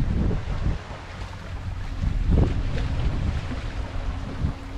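Wind buffeting the microphone aboard a sailboat with an ePropulsion Navy 3.0 Evo electric outboard, with steady rushing gusts and water noise close by, wind coming from behind, no voices.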